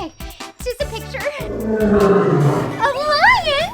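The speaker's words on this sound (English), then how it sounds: "A lion?" A lion's roar, deep and sustained, rises after a few brief sounds and runs for a couple of seconds before a wavering whistling tone takes over at the end; fairly loud and close.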